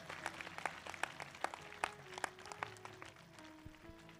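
A church congregation claps together in a steady, rhythmic beat of sharp, distinct hand claps at a moderate distance, with a faint tonal hum of music underneath.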